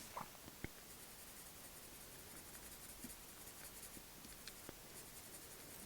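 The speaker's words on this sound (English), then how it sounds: "The pencils glide really nicely" Faint, soft scratching of a colored pencil moving across paper, with a few light taps of the pencil tip, quiet and close.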